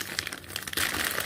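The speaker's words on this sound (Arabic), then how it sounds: "هجيب كده كيس ملح" A plastic bag of salt is handled up close, giving a burst of crinkling and crumpling that swells louder toward the end.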